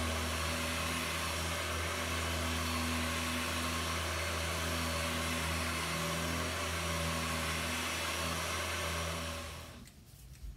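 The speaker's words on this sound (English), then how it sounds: "So these days I use an inline sander with a curved block of foam. It's far less tiring," An inline sander with a curved foam block works a new wooden ringtail spar for a historic 18-footer sailboat, a loud, unbroken mechanical drone with a steady hum that winds down and stops just before the end.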